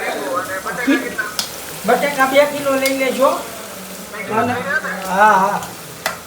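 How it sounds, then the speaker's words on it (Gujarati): Spices tempering in hot oil in a large home cooking pot (six kilos of oil), sizzling and stirring through the clip, heard under loud overlapping conversation and a nearby phone. "વઘાર કરવા માંડ્યો છે ભૂરો અમારે"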